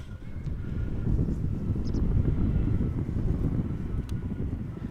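A TUI Boeing 787-8 Dreamliner arrives at Amsterdam Schiphol Airport from Bonaire as a steady, loud, low roar that fills the whole stretch, with wind rumbling on the microphone and no talking.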